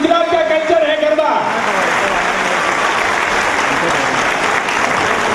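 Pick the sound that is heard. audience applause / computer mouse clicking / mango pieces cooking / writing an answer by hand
audience applause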